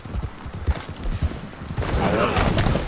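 Rapid gunfire in a video game firefight, a burst of sharp shots and clattering impacts that thickens into a dense barrage toward the end, mixed with hoof-like clopping.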